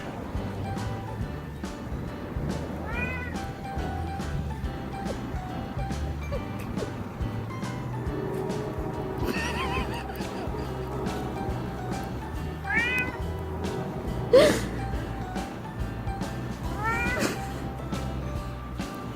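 A cat meows outdoors in a snowstorm: a few drawn-out, plaintive meows come at intervals, fairly close, over a steady windy background hiss.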